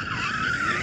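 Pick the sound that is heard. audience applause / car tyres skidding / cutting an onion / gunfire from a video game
car tyres skidding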